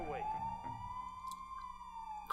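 Emergency vehicle siren in the game Emergency: Fighters For Life, a steady sustained wail that holds a single pitch, loud and close against a constant noisy background, with a brief clunk near the end.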